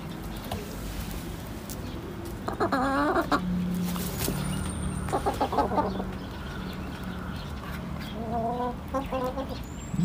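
Chickens cluck and trill in short bursts, close by and moderately loud, with softer rustling and background noise between calls.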